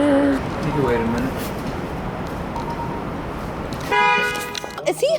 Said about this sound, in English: Is he honking at us?